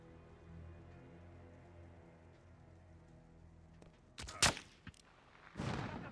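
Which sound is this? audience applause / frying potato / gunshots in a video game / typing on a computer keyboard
gunshots in a video game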